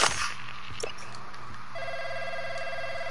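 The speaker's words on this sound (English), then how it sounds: "I got a phone ringing here" A phone rings in a PS4 shooter game, a repeating electronic ringtone that grows steadier partway through, over low background game sounds with faint voices.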